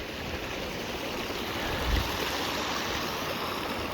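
Water runs across the end of a street in Montagu, a dense, steady rushing wash that stays close and loud throughout, with no voices.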